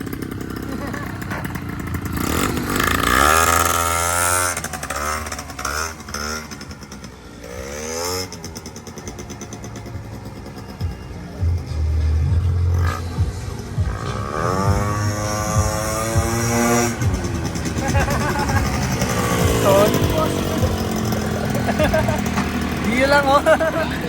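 A Honda Dio 50cc scooter engine revs up and down repeatedly, its buzzing two-stroke pitch rising and falling in several surges, with people talking nearby throughout.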